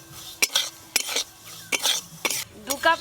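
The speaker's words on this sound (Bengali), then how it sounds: "সুজির সঙ্গে আমল দুধটা খুব ভালো করে মিশিয়ে নিতে হবে" Semolina being mixed with milk in a pot, sharp spoon-against-metal clinks and scrapes repeating in irregular bursts, close and fairly loud, with a brief cough-like noise near the end.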